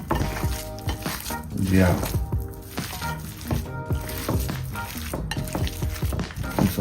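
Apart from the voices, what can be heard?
stirring jerk burger mixture in a sizzling pan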